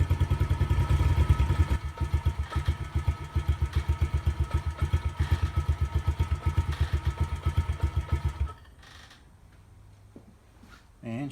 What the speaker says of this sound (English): I'm going to let the carburetor run her out of fuel